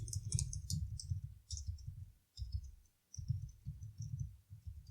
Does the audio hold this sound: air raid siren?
no